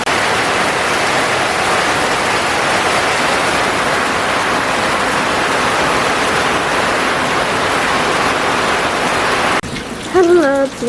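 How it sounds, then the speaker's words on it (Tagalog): Steady afternoon rain falls in the countryside, a dense continuous hiss that stays loud and even throughout, briefly giving way to a voice in the final second. "Ayan, hapon na pero umuulan pa rin."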